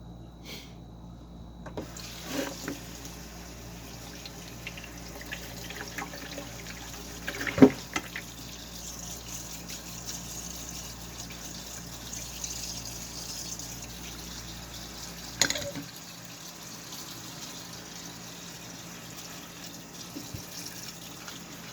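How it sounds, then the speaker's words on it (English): Tap water running steadily and softly over fresh blossoms being rinsed in a kitchen, with a couple of sharp knocks or clunks over the continuous flow and no talk. "get these good and rinsed off."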